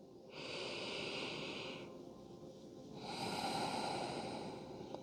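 Slow, deep breaths during a gentle evening yoga flow, two long airy exhalations or inhalations in sequence, each lasting over a second, close and fairly soft with no talking.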